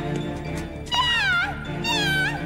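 A cartoon cat gives two clear, close meows, each with a rising and falling wavering pitch. The calls sit over a faint background.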